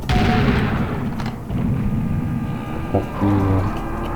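A pump-action shotgun fires in the Serious Sam first-encounter shooter game, heavy booming blasts under a dense wash of game noise and rumble, with a sharper shot near the end.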